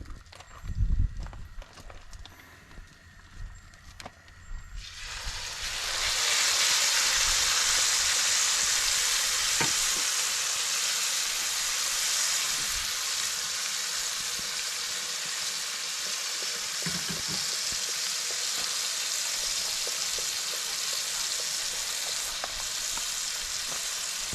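Thick steak searing in a hot pan for a cookout, a loud steady sizzle that bursts up after a few seconds of handling clatter and then holds as a continuous close hiss.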